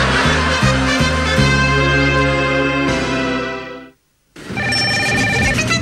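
A telephone rings indoors in a family home with a loud, melodic electronic ringtone that plays continuously, cuts off for a moment, then starts again.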